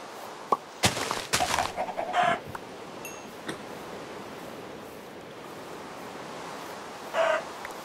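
Chickens clucking in a video game, a few short bursts of squawks and clucks early on and another near the end, over a quiet steady ambient wash.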